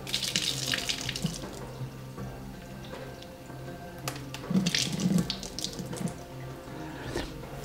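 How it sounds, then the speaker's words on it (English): Tap water runs steadily into a sink to wash rice, close and continuous, with splashing that swells as the grains are stirred, no talk. "And now I'm going to wash my rice."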